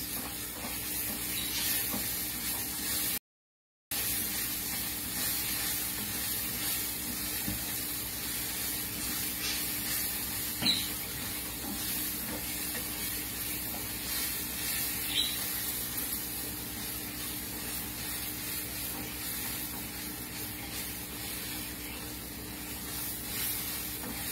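Rice sizzles softly and steadily in a pan while it is stirred, a continuous low frying hiss with occasional faint scrapes, briefly cut off once near the start.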